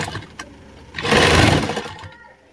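A sewing machine stitches men's elastic underwear fabric in one steady whirring run of about a second, rising out of quiet room noise and fading away again.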